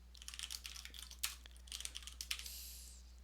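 Rapid typing on a computer keyboard while writing test code, a close run of light clicking keystrokes with brief pauses and one firmer tap, over a faint steady hum.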